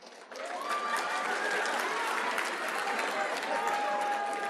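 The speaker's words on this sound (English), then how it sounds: "that round of applause felt really weird" An audience at a talk gives a steady, even round of applause that starts abruptly and continues at full strength, with faint voices mixed in.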